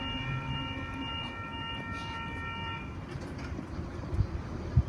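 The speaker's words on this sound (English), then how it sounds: "there's an 8-car Oscar approaching platform number 1" An 8-car Oscar express train approaches a station platform at Woonona, a steady rumble of rail noise with a high tonal whine that fades partway through, and no talk over it.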